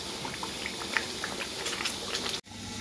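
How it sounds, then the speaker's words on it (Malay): Asam pedas stew of small fish simmering in a covered pot, with a dense, steady bubbling and crackling of oil and liquid close by, ending in an abrupt cutoff near the end. "So kita masak dia sehingga naik minyak, hingga pecah minyak."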